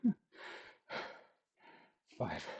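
Heavy, breathy exhales during a core workout come in a string of four or five close, forceful puffs with short pauses between them.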